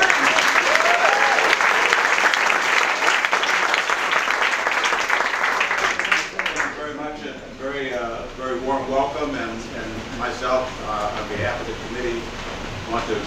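Audience applause at an evening panel event, a dense steady wash of clapping for about six seconds that thins out, followed by people talking over the dying claps.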